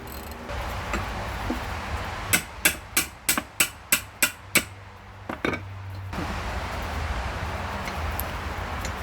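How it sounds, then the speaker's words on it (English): Eight sharp metallic hammer blows ring out in a quick, even series on the intake manifold bolts of a Honda B20B cylinder head, followed by two lighter taps, all close and loud over a low background hum. "Use a hammer so you don't bust up your knuckles."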